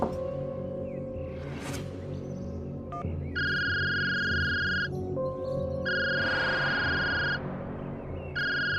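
A mobile phone rings with an incoming call in a Hindi TV drama scene, electronic ring bursts repeating in rhythmic pulses over a background of low hum and ambient noise.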